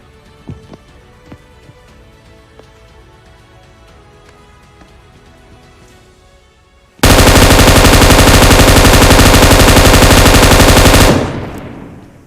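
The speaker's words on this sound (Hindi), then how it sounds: "हमारे पीछे भी एक टीम है और वो ये न जाने कब से हमारे ऊपर गोलियां चला रही थी" Sustained automatic gunfire from an enemy squad in a multiplayer shooter game, erupting suddenly loud and dense after quieter scattered shots and game sounds, then cutting off abruptly.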